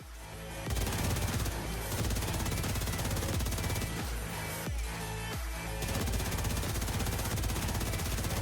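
Sustained automatic gunfire from a video game shooter, The Division 2, loud and dense, with rapid bursts of shots running almost continuously with brief gaps.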